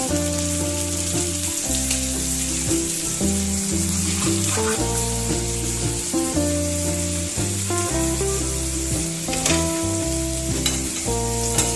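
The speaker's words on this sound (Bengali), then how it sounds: "এবার একটু 3-4 মিনিট একটু ফ্রাই করবো।" Food seasoned with white pepper powder fries in a pan, a steady sizzling hiss running beneath loud background music throughout.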